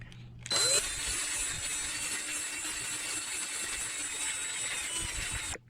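A rotary burr grinds down a mini ATV wheel hub that is slightly too big to fit, a steady high-pitched whine held close and loud for about five seconds, then cutting off abruptly.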